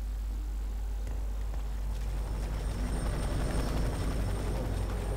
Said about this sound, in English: Like helicopters or something?